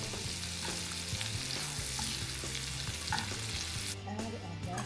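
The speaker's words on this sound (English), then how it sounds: "I'm gonna get 2 tablespoons of butter and put it into my frying pan. We're about to saute those vegetables." Vegetables sauté in butter in a frying pan, a steady soft sizzle with occasional stirring scrapes, close and quiet with no talking.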